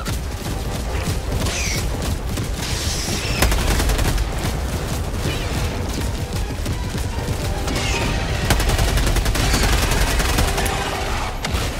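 Orbital barrage strike in Helldivers II, loud rapid booms and crashing impacts mixed with dense gunfire in a constant barrage throughout.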